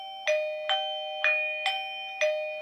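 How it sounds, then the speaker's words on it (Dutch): A Eufy video doorbell's Homebase speaker plays its electronic chime, a repeating series of ringing bell tones struck about every half second, clear and close with no voices. "Er zit ook een speaker in, zodat je hem kan gebruiken als extra bel voor als iemand aanbelt."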